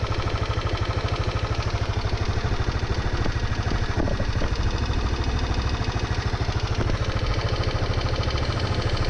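A small scooter engine, a Yamaha NMAX at 12,000 km, idles steadily up close, with a rapid, regular ticking clatter from the rocker arms running throughout.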